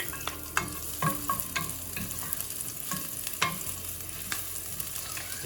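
Garlic sautés in a pan as the start of a sweet and sour sauce for fish, a soft continuous sizzle broken by scattered sharp ticks and clinks from stirring.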